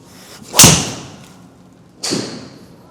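Two sharp impacts in a golf practice bay, a driver striking a ball with a loud crack followed a second and a half later by a softer thud, no talking.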